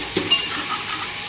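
Mutton frying in a pan with onion, tomato and ginger-garlic paste, giving a steady broadband sizzle with a couple of soft stirring scrapes, close and moderately loud, no voices.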